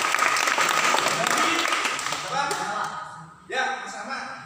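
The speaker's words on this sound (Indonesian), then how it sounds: "Tepuk tangan untuk Mas Sofan." Applause breaks out in a classroom for a student's answer during a teacher training session, dense clapping from a small group that thins out and fades toward the end.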